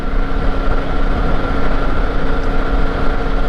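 A 2021 Triumph Tiger 900 GT Low motorcycle engine drones steadily while riding at moderate RPM, a loud continuous low rumble with wind noise and no pauses.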